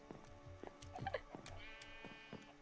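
Sheep bleating in the video game Minecraft, several short nasal bleats spread across a couple of seconds and repeating irregularly, moderately close and clear, with faint game background underneath and no talking.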